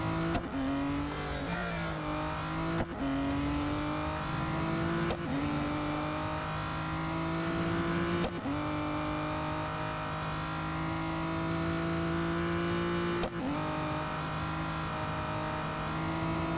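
Race car engines in the mobile racing game Real Racing 3 rev hard and steadily, climbing in pitch through repeated gear shifts with brief dips between them, loud and continuous with no talking.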